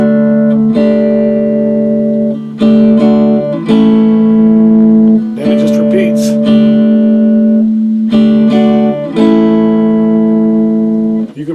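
A guitar strums a simple repeating pattern, with bright, loud chord strokes in a steady rhythm, broken into phrases by short pauses.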